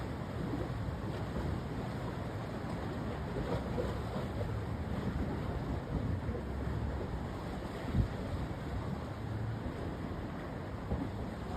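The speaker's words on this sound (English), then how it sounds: "underneath my feet, the waves crashing against the rocks" Low, steady wash of ocean surf against rocks below a coastal walkway at Terrigal on the NSW Central Coast at sunrise, with faint wind buffeting the microphone and one soft thump.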